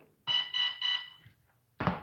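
Three short electronic beeps from an airsoft gun, signalling a 3-cell battery, in quick even succession, close and clear, followed by a brief dull click.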